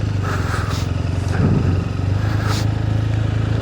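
Loaded touring motorcycles idle and pull away in the Cairngorms of Scotland, a steady loud engine drone with a brief swell of revving near the middle, close by and continuous with no talk.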